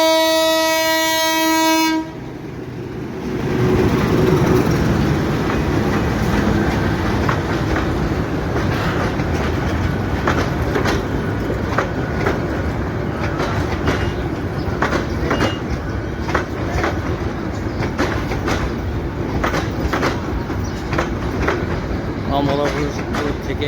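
A passenger train from Kamalapur pulls into Narayanganj railway station beside the launch ghat, opening with a loud steady horn blast, then rumbling and clattering steadily over the tracks close by, with people talking on the platform.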